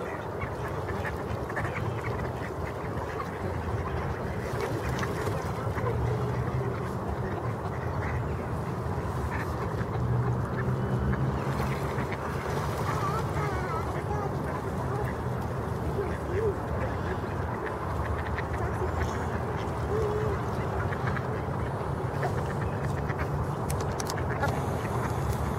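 A crowd of ducks quacking and squabbling continuously nearby while being fed in Catherine Park in the evening, with occasional voices talking in the background.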